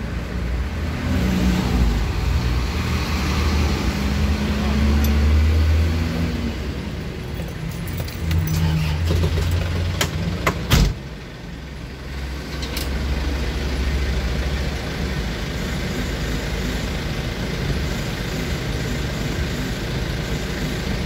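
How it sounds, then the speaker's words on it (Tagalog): A freshly repaired motorcycle engine runs steadily at idle, a continuous close rumble with a few sharp clicks and a brief dip midway before settling back to an even drone. "Ayos na, gumagana na ang motor."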